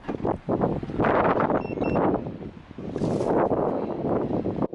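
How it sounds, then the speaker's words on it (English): Strong outdoor wind buffets the microphone in gusty, rumbling surges that rise and fall throughout, loud and close. "It's a little windy"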